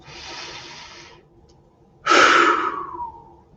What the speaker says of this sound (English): Taking another deep breath.